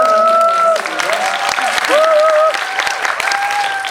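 Audience applause at a Korean film talk event, a steady, loud burst of clapping lasting several seconds, with a few tonal sounds running beneath it.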